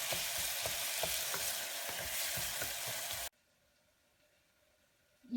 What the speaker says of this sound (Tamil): இது நல்லா உங்களுக்கு வதங்கிடுச்சுன்னா நம்ம இஞ்சி பூண்டு பேஸ்ட் நம்ம போட்டுக்கலாம்